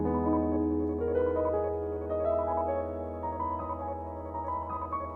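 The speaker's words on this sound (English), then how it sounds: "I have this piano bit down here" A reverb-washed piano part played forward in a studio, sustained notes and soft chords blending into a steady, moderately quiet wash of tone with no voices.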